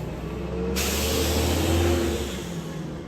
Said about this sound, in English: Ladies and gentlemen, the trash truck.